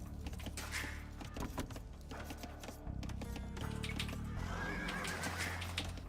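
Horses whinny and neigh amid clip-clopping hooves and busy battle sounds in Age of Empires II, a dense, steady game soundscape with repeated neighs near the start and end.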